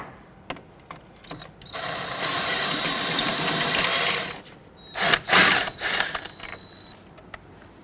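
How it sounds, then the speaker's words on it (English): A ratchet wrench loosens and removes front strut bolts on a 2006-2014 Honda Ridgeline, with a long, loud, rapid whirring clatter, then several shorter bursts of clicking and a few isolated metallic taps nearby. "let's go ahead and loosen and remove our bolts"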